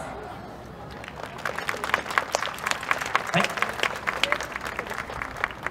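A crowd claps along for a yosakoi dance team at a 2024 festival stage, a dense, lively stretch of many hands clapping that builds after a brief pause, with a voice speaking briefly.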